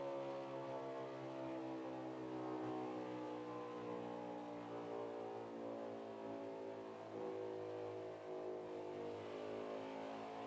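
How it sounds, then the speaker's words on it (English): A race car engine at Chicagoland in a Prime Time Series race, a steady harmonic drone that holds near and loud across the stretch with slight surges, the driver lifting or cutting the engine to save fuel; no voices. "See if you can hear the engine cut."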